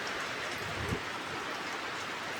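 Steady rain hisses evenly throughout, a soft, constant wash of falling water at moderate distance with no voices.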